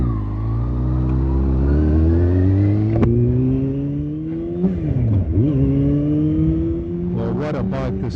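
A 2015 Kawasaki Ninja ZX-6R 636 sport bike engine hums steadily while being ridden, its pitch rising smoothly through the gears with a brief dip and recovery near the end, loud and close throughout.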